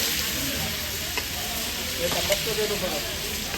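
A large batch of beef kala bhuna, eight to nine kilograms, fries in a big pan with a dense, constant loud sizzle and hiss, broken only by a few faint stirring clinks.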